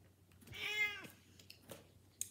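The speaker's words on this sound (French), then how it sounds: "Le retour du chat." A house cat gives one clear, drawn-out meow close by in a quiet room, followed by a few faint small noises.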